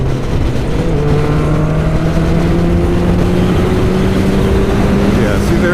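A Kawasaki Ninja ZX11 motorcycle holds high revs while being ridden, its engine a loud, steady drone whose pitch climbs slowly over several seconds under constant wind rush.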